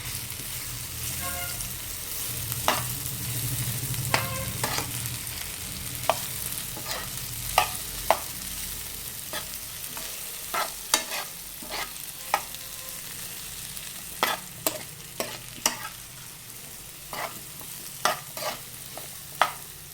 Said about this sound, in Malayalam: സെയിം നെയ്യിലേക്ക് തന്നെ നമുക്ക് ഈ പഴം അരിഞ്ഞിട്ട് കൊടുക്കാം. ഇത് 2 മിനിറ്റ് നമുക്കിതൊന്ന് വേവിച്ചെടുക്കാം.